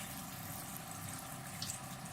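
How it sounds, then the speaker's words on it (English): Water pours steadily into a cooking pot while steaming fish for a Jamaican dish, a soft continuous splashing wash with no talk over it. "Pour a little bit of water in there."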